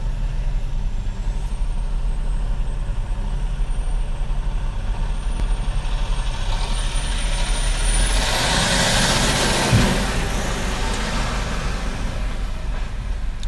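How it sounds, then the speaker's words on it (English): A big truck hauling a large trailer maneuvers through a turn, its low engine rumble steady throughout, with a broad hiss of air brakes swelling near the end; no one talks. "See, that's why people see this big old trailer trying to turn."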